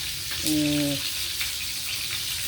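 Steady sizzling of eggs frying in a pan fills the clip, with a brief tonal hum near the start and no talking.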